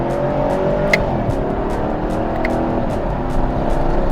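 A 2021 Chevy Camaro LT1 roars along steadily as it speeds and takes a corner. The deep engine drone is loud and continuous, with a few faint sharp ticks over it.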